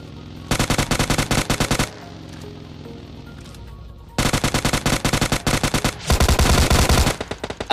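Rapid bursts of M4 rifle fire from a video game, loud and close, in three long automatic volleys separated by short pauses.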